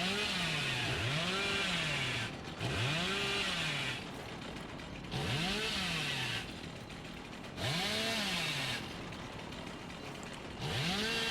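A chainsaw revving in the Dead by Daylight video game, repeated bursts of whining engine rising and falling in pitch, four or five revs separated by brief quieter gaps, fairly faint overall.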